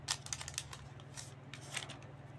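Quick, close snipping and crinkling of scissors cutting through a plastic trading card pack wrapper, a series of short crisp cuts.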